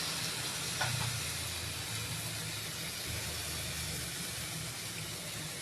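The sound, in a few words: chicken being sautéed in a pan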